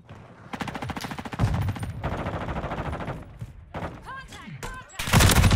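Rapid automatic gunfire from Call of Duty Modern Warfare II multiplayer, long loud bursts of machine-gun fire with brief pauses and a heavier closing volley, mixed with other game effects.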